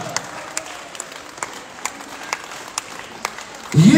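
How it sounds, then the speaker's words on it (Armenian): An audience at a restaurant celebration claps in sparse, rhythmic applause, moderately distant, before a louder burst of sound at the end. "ծափահարություն են բարձր!"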